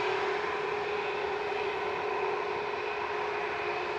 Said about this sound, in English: that's EasyJet on the roll